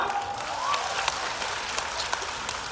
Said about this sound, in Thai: ขอเสียงปรบมือให้กับท่านประธานของเราครับ